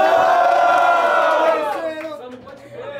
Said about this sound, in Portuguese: Quem gostou das rimas do Tunote, barulho mão pra cima